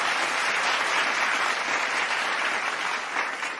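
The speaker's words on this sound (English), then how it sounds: "Let's give a round of applause" A burst of enthusiastic applause from a crowd, dense clapping sustained for a few seconds before tapering slightly.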